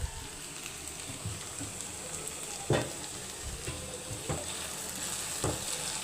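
Green chillies with salt fry in a pan, giving a constant crackling sizzle, with a few sharper spatula scrapes and taps while they are turned, close and moderately loud, with no talking.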